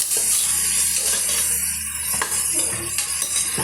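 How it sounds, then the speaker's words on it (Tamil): Onions are sautéed in a pan until they change colour, a close, steady sizzle with occasional scraping and light clinks of a stirring spoon against the metal. "இப்போ இந்த வெங்காயம் ஓரளவுக்கு கலர் நல்லா சேஞ்ச் ஆகிட்டு வரட்டுங்க. அது வரைக்கும் நம்ம வதக்கி எடுத்துக்கலாம்."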